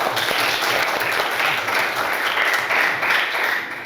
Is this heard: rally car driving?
no